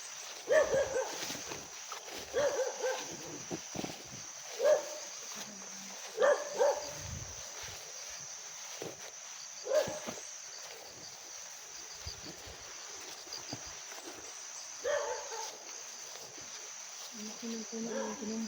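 A dog barking repeatedly at a distance, single barks every couple of seconds, with a steady high insect drone running underneath.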